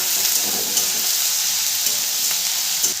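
Chopped green chillies sizzle loudly in a pan for chili chicken, a dense, even frying hiss with faint stirring scrapes, no voices.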